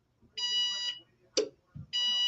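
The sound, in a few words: microwave timer beeping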